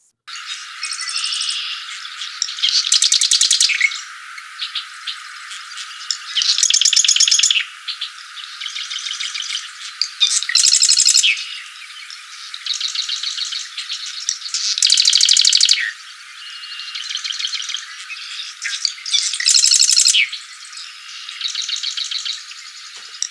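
A marsh wren sings in repeated bursts, each a rapid buzzy rattling trill, spaced a few seconds apart and fairly loud and close, with softer chirps between songs and no talking.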